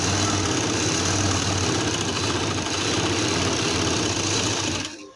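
Sewing machine stitching the seam of a summer frock, running in a loud continuous rapid mechanical whir close by that stops abruptly at the end.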